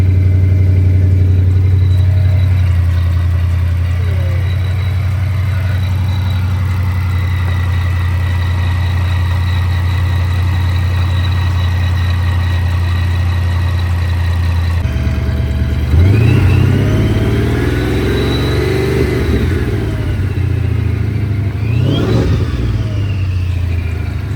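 Cars at a drag race with a Ford EcoBoost against a GT: a loud, steady engine drone idling for a long stretch, then engines rev and accelerate with rising, sweeping tones near the end.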